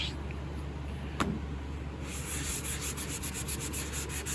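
Sanding on the wooden case of an 1867 Chickering piano under restoration: a steady rubbing hiss runs throughout, turning into a quicker, rhythmic back-and-forth scrape in the second half, close and moderately loud.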